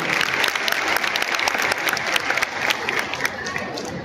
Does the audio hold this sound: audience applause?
yes